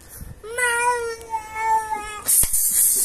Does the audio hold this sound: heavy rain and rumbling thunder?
no